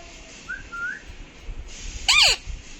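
A pet parrot whistles nearby: a couple of short, gliding whistled notes, then a sharper, louder rising-and-falling call near the end, heard alone over quiet room ambience.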